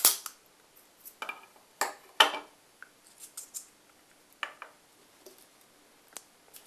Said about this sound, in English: Cut off the end of the film.